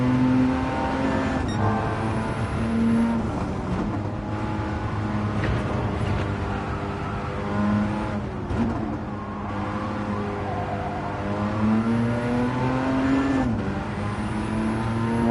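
A car engine in Gran Turismo 7 drones steadily with rising and falling revs, a close sustained racing hum with gear-shift dips, no talk over it.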